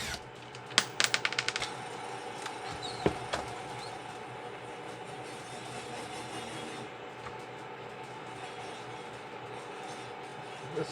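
The recoil starter comes off a Husqvarna 450 Rancher chainsaw with a quick burst of rapid ratcheting clicks and a couple of sharp knocks, then a steady low background hum, with no talking.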